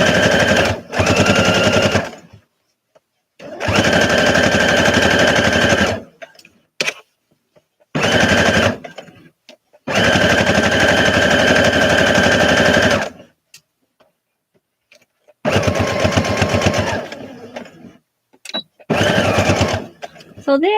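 A sewing machine stitches in several loud, rapid, rattling bursts separated by pauses, close up, with people talking in between.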